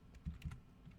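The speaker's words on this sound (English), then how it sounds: "I'm sorry, I'm typing kind of slow." A few soft, close keystrokes on a computer keyboard tap out in an irregular burst, with quiet pauses between them.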